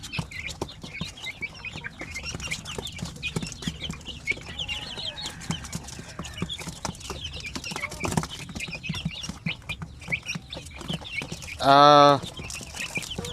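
Chickens clucking and chicks peeping, including Basilan, Zampen and Shamo Aseel chicks from an incubator, amid a busy farmyard background with scattered rustling, and a brief louder squawk near the end.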